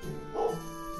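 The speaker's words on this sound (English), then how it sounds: "that's just my dog barking." A dog gives a short bark or yip in the background, one brief, fairly faint call in an indoor room.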